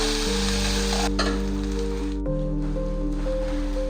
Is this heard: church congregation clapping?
no